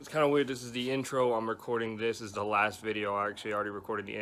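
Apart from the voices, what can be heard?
No distinct noise like a dog, phone or traffic.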